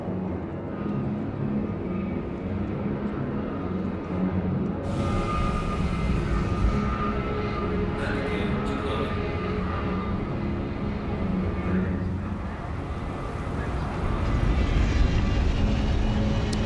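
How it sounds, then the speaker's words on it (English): Aircraft flying in the space game Star Citizen, a steady, loud engine drone and roar that holds throughout and swells slightly toward the end, with no talk. "The planes flying ahead are kind of weird."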